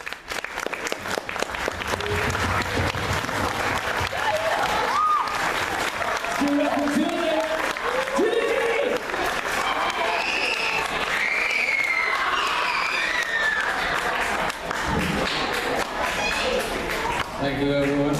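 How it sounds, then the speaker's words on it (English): A crowd at a middle school evening gathering claps steadily for many seconds. Voices and some scattered calls rise over the applause throughout. "let's clap a little bit."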